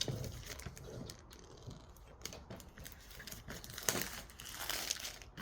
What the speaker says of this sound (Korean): 일단 이렇게 언박싱하고 잘 열린다 이렇게 되어 있습니다